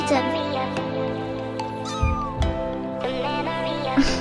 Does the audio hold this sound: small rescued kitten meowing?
yes